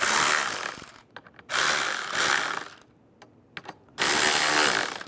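Bolts are tightened on a 2007-2013 Chevrolet Silverado steering wheel with a power tool, giving three loud bursts of whirring and ratcheting separated by short pauses with faint clicks between them.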